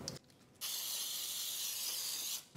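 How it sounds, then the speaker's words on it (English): Baking spray containing flour hisses from a can onto two 8-by-4-inch loaf pans in one steady burst lasting nearly two seconds, close and loud, preceded by a few faint clicks. "I'm using baking spray."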